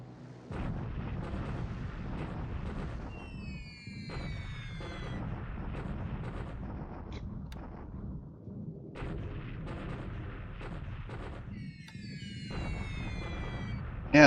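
Naval bombardment in the strategy video game War in the Pacific: a continuous rumble of booming artillery blasts, overlaid twice by bursts of high whistling shells sweeping downward.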